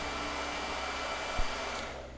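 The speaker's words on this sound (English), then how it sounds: "It's going to be a lot of blow dryer today, isn't there?" A blow dryer runs steadily and close throughout while painting, a continuous whooshing hum with a brief low thump partway through.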